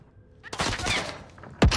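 Gunfire in the Call of Duty Vanguard Warzone video game cracks out in a short burst of shots, fairly quiet overall and ending in one sharper, louder blast, with brief talk in the background.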